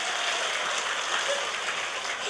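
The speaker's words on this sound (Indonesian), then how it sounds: "tepuk tangan maning" An audience claps at a village religious talk, a steady, dense wash of applause with no distinct individual claps, held at an even level.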